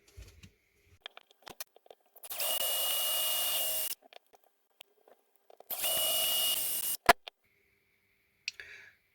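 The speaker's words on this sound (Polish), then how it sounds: "a jeszcze sobie powiercimy tutaj te otwory pod wkręty" A small drill whines in two steady bursts of about two seconds each as it bores screw holes in a plastic Parkside spotlight housing, with faint taps and handling noises in between.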